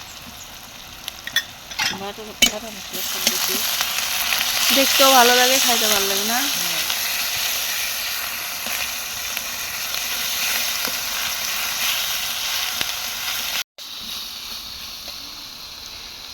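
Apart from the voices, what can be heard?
ground spice paste being stirred and fried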